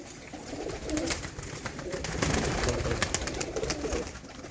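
Grey desi pigeons coo steadily at close range, a continuous low, throaty murmur with faint rustling behind it.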